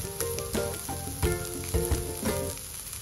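Garlic cloves and ginger frying with golden-brown onion in a pan for chicken curry, a close, steady crackling sizzle with scattered pops and light stirring clicks.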